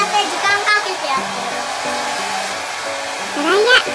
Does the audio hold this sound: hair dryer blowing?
yes